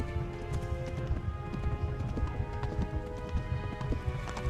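Hooves of a galloping horse in the medieval video game Kingdom Come: Deliverance pound in a fast, steady rhythm, moderately loud over a dense rumbling background of game ambience.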